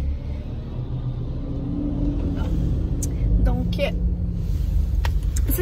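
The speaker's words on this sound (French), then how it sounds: "il y a un camion de genre poubelle ou je sais pas trop qui passe" A garbage truck rolls past on a narrow street, a deep steady engine rumble that swells slightly while someone talks over it, with a few clicks and knocks near the end.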